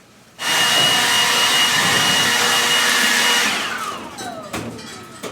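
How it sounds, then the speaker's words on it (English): A handheld leaf blower clearing burnt debris from an outdoor cooking grate starts abruptly with a loud, steady roaring whoosh that holds for a few seconds, then winds down with a falling whine and clattering knocks. "So I recommend the leaf blower. It works really good."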